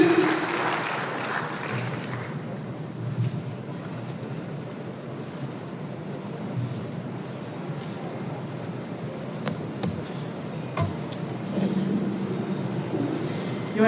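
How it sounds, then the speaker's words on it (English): Audience applause at a stakeholder forum in a large hall, steady clapping running throughout with a faint murmur of voices underneath and a few louder isolated claps. "Make them applause louder."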